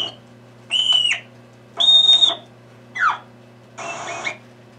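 Four separate high-pitched Vancouver Island marmot alarm calls, each a short whistle or chirp under a second long, spaced evenly apart over a steady low hum.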